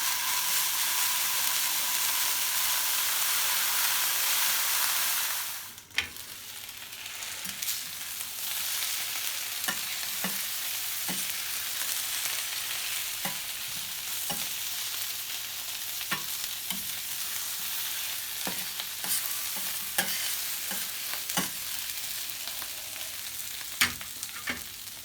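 Small potatoes in a pan, with water just added, sizzle steadily with a bright, close hiss that drops to a softer crackling fry, punctuated by occasional scrapes and clinks.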